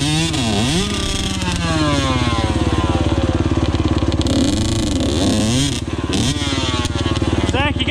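A motocross bike stuck in a muddy rut on an enduro ride revs loudly and close up, its engine note rising and falling repeatedly and barely dipping in the last two seconds.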